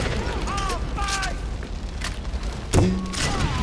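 Explosions and gunfire in the video game Far Cry 4, with a dull boom and rumbling blasts beneath game effects and a continuous noisy mix, one heavier thud standing out near the end.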